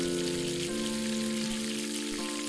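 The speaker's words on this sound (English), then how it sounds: "Soon I heard the sizzling of frying meat as the delicious smell of steak wafted into the room." Steak frying in a pan in the visual novel Angels with Scaly Wings, a steady dense sizzle that runs throughout under soft sustained background music tones.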